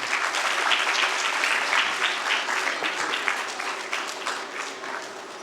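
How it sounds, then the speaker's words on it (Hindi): Audience at a Hindi stage event applauding a welcome, a dense, steady round of clapping from a hall crowd that holds for several seconds and eases slightly toward the end. "दर्शकों से निवेदन है कि लगातार तालियां बजनी चाहिए"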